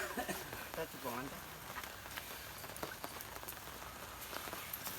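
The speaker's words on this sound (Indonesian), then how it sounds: "Hujan gede." Heavy rain pours steadily onto a surface, a dense continuous hiss with scattered drop hits, while a voice talks briefly at the start.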